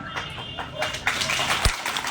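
A village crowd at a rally in Ramgarh applauds the newly elected MLA, a soft then swelling patter of many hands clapping at a distance, steady and moderately loud with one sharp thump near the end.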